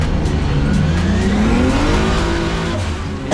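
A drift car engine at a drift battle, loud and close, a sustained high revving roar with a rising then steadying pitch, mixed with tyre noise and crowd-level background rumble.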